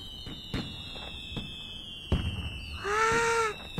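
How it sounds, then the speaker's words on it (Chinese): Cartoon fireworks from the Boonie Cubs series go off in a few sharp pops early on, then one bright whistling, crackling burst near the end, heard alone without talk. "好漂亮的烟花！"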